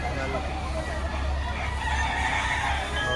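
Roosters crow amid busy background noise at a crowded chicken market in Batangas, their calls rising over a constant hubbub of people and birds.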